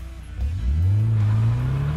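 A car engine revs up sharply during drifting practice, its pitch rising and holding as the engine climbs, loud and close.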